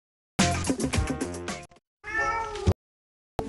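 A cat meows several times in a cat food advertisement, a long bright call followed after a short pause by a second drawn-out meow, close and clear with no talking.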